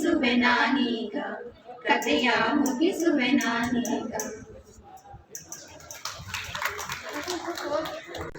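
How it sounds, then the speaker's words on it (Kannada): Audience applause breaks out at a college cultural and sports inauguration ceremony, a scattered clapping texture rising in the second half after a sung performance and a voice. "ಚಪ್ಪಾಳೆ"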